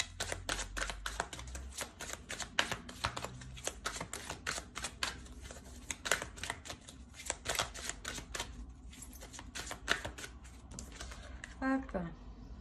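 Tarot cards are shuffled by hand before a final card is drawn, a long run of rapid crisp riffling flicks, close and fairly quiet, with a voice talking briefly near the end.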